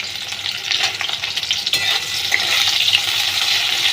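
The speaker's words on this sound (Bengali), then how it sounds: "পেঁয়াজগুলো কিন্তু একটু ভালো করে ভেজে নিতে হবে।" Chopped onions fry loudly and steadily in hot oil for a chana dal dish, with a dense continuous sizzle and occasional stirring scrapes. No voices.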